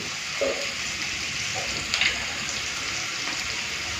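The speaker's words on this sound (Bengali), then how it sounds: "তারপরে আমি মশলাটা ভালো করে ভেজে নেবো" Spices sizzle and fry steadily in a pan with turmeric, a constant crackling hiss with a few louder spits and faint clinks of stirring.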